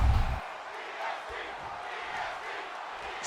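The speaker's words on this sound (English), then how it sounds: "The St. Louis crowd is rowdy for their EST." A rowdy St. Louis arena crowd at a wrestling show in WWE 2K25 roars and chants steadily in the background, with a louder low thump at the start and muffled calls rising now and then.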